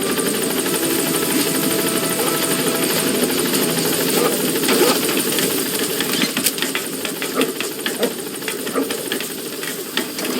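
A helicopter hovers at a landing zone in Metal Gear Solid V, its loud, steady rotor thrum and engine roar filling the scene, with a radio voice speaking over it.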